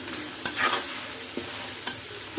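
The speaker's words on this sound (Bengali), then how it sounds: "আর আমি আজকে রান্না করবো হচ্ছে বেগুন দিয়ে এটা আমি কষাম" Eggplant being stir-fried in a pan at home, with a soft continuous sizzle and a few sharp scrapes and clacks of the spatula stirring, close by and with no talking.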